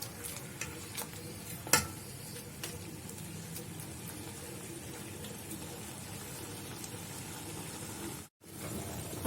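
Meat turning over in hot ghee with cardamom, giving a steady close sizzle with scattered stirring clatter and one sharp knock partway through, then a brief drop to near silence before the frying resumes.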